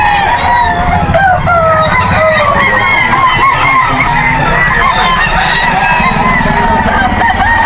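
Roosters crow repeatedly over a dense, steady chorus of clucking chickens at a crowded pet market, loud and close throughout.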